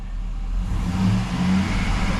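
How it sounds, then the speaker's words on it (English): A car engine held on the rev limiter with an MSD two-step while the brake is held, droning steadily with a slight bouncing pulse, loud and close throughout. "We're on the rev limiter."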